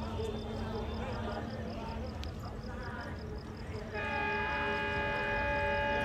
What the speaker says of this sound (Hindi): आइए बात करते हैं नौचंदी एक्सप्रेस की जो प्लेटफॉर्म नंबर 1 पर आ रही है मेरठ सिटी के